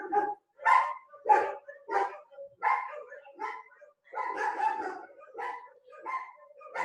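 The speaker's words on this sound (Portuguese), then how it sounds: "Eu não consigo falar com ele latindo." A dog barks repeatedly indoors, fairly close, in a series of sharp barks and yips with short gaps, some running together, and no other sounds.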